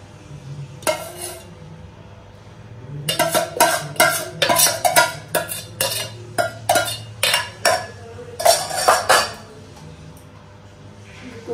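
A metal ladle clinks and scrapes against a pot as gravy goes into biryani already seasoned with mitha attar, kewra water and biryani masala. Quick irregular clatters come in bursts, close and fairly loud, with no talking.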